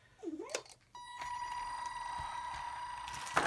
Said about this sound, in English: And that noise you can hear is normal for an RC car to make that noise.